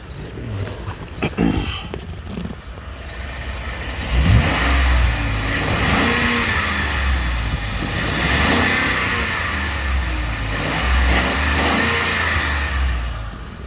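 A 2013 Ford F-150 Lariat 4WD with the 5.0L V8 is revved repeatedly, deep engine swells rising and falling over a steady idle, close and fairly loud throughout.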